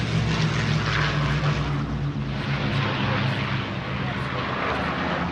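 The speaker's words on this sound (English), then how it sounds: "Here comes the Lancaster." An Avro Lancaster bomber flies past at an air show, its piston engines and propellers producing a loud, steady droning roar that fills the whole stretch, with a voice talking over it.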